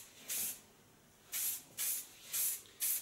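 Several short hissing bursts of aerosol hair finishing spray, close and fairly loud, with brief pauses between them.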